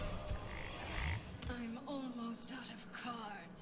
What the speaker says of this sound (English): I got turned into a frog twice.